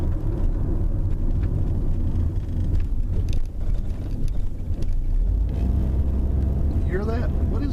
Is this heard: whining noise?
yes